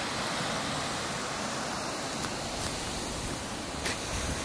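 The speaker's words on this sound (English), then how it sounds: "Look at the river here." A flooded river surges beneath New Bridge in Copley, West Yorkshire, giving a constant dense rushing hiss of fast water, close and loud, unbroken throughout with a few faint knocks and no talking.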